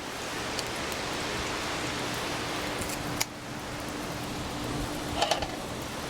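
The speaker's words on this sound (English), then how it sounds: "This thing's kind of gotten rained on a little bit." Steady rain falls on and around a Big Green Egg grill outdoors during an Oklahoma storm, a continuous hiss with a few sharper close taps and clicks.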